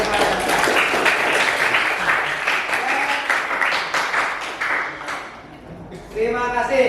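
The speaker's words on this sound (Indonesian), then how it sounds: "kita beri aplaus untuk semuanya" A classroom applauding student group presentations, a dense burst of clapping from many hands that fades toward the end, then a brief voice.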